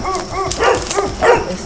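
Several dogs, thin and badly neglected, one emaciated, bark and whimper at a residential property during an inspection; two short nearby bursts of barking over a steady background.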